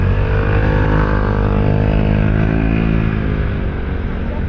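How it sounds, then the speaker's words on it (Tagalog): Dense, loud road traffic with motorcycle engines droning and humming continuously nearby, a steady rumbling wash of motors on a congested street. "Grabe ang traffic, oh."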